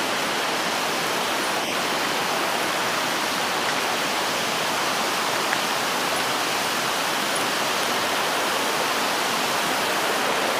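A forest waterfall pouring steadily, a dense, even roar of rushing water that stays constant and close throughout with no voices.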